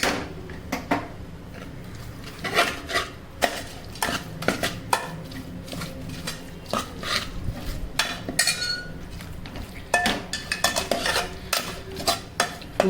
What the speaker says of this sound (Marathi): पूर्ण आता आपण मिक्स करून घेतलंय. सगळा मसाला आता मिक्स केलाय.